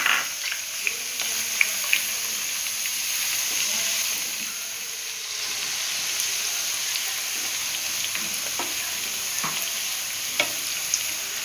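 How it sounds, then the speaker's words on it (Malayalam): Thinly sliced onions frying in hot coconut oil give a continuous bright sizzle, close and even, broken by occasional light clicks of a spoon. "ഇപ്പോൾ നമുക്ക് വെളിച്ചെണ്ണ ചൂടായിട്ടുണ്ട്. ഇത് കനം കുറച്ച് അരിഞ്ഞ സവാള ഇട്ട് കൊടുക്കാം"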